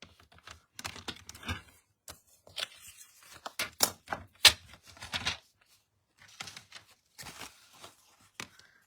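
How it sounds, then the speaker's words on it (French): A paper strip for a greeting card being cut 2 cm from the edge between two earlier cuts, heard as close, crisp bursts of snipping and scraping in uneven clusters with short pauses. "je vais pouvoir découper ma bande à 2 cm du bord entre mes deux découpes"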